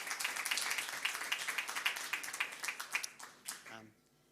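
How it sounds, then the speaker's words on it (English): Live-stream viewers at the Cliff Bellamy Awards 2022 ceremony give a short round of clapping, many hands in a steady patter with sharper individual claps, fading out over about four seconds. "give Marius a bit of a clap"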